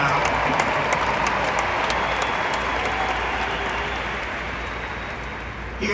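A large crowd at a memorial for Charlie Kirk applauds continuously, a dense wash of clapping and cheering that holds steady and then tapers slightly toward the end.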